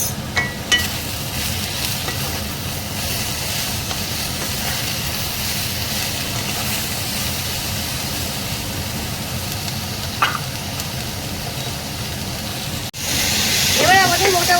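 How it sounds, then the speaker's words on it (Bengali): Mixed vegetables for a vegetarian curry fry in a pan with a little salt, giving a loud, continuous, hissing sizzle with occasional clinks of a stirring spoon. "এবার আমাদের মোটামুটি সবজিগুলো ভাজা ভাজা হয়ে গেছে।"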